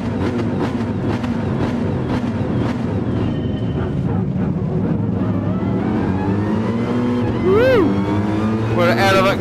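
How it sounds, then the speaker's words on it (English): Mercedes AMG GT GT3 race car engine in the video game GT Sport, driven in VR at night: a loud, steady engine drone with rising revs and tire squeal near the end, while a person talks over it. "It's time in the Mercedes AMG GT GT3 16, which I have not driven yet."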